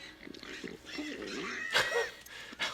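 A pig grunts and oinks in an animated episode, short snorting squeals layered with overlapping voices and cartoon sound effects, moderately quiet.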